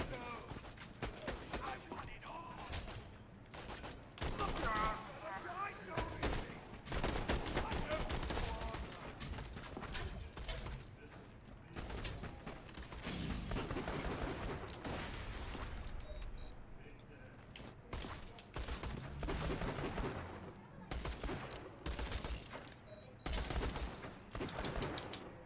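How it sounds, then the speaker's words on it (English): Rapid bursts of gunfire and automatic weapon fire from Borderlands 2 crackle in dense volleys, with people talking over the shooting throughout. "Let me shoot the fire."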